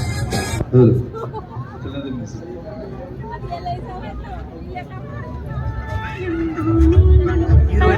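Horses neigh and whinny at a crowded horse market at the Sarangkheda festival, with a steady murmur of crowd chatter and voices throughout and a louder burst of activity near the end.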